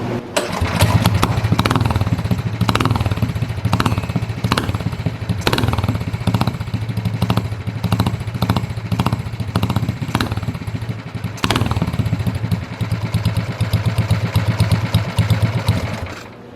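A new engine on a go-kart built for drifting runs loud and close, with a steady, buzzy, pulsing chug and a few rev surges along the way.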